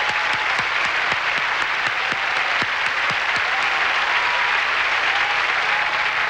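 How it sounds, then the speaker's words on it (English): Audience at the Miss Universe 1989 pageant applauding the contestants, a steady dense wash of clapping filling the hall with sharper individual claps standing out, continuous and fairly loud throughout. "please join me in applauding all the contestants for the title of Miss Universe"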